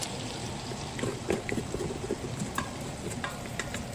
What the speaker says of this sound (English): And so I'm going to let that sear up a little bit.